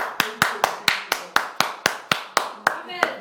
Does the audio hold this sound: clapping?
yes